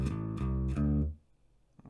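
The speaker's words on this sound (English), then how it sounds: "it's that bluesy riff again, but we've moved it down into A now" A bass guitar plays a short bluesy riff moved down into A, three plucked low notes in quick succession that then fade into near silence, close and clear.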